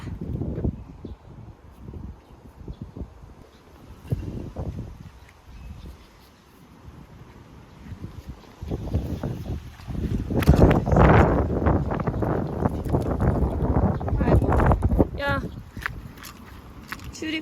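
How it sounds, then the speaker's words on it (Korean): Strong wind blows outdoors along a grassy street, buffeting the microphone with a low, gusty rumble that swells louder midway. Footsteps and voices can be heard through it. "아, 바람 쩔어."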